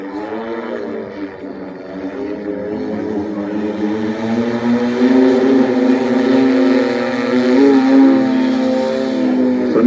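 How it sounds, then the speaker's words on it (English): A steady whirring drone of a BSP Blackfly eVTOL aircraft's electric propellers hums with layered tones, growing slightly louder and shifting in pitch as it moves in slow forward flight. "listen to the prop noise, engine noise, or lack thereof"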